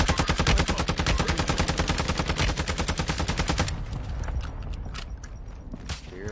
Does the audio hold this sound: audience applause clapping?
no